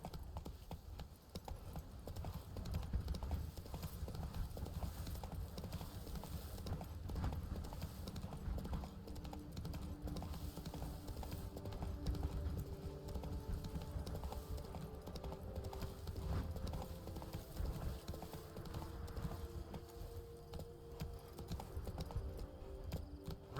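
Rhythmic clip-clop of the horse Roach galloping in The Witcher 3, continuous hoofbeats at a steady pace under game ambience, fairly close with no talk.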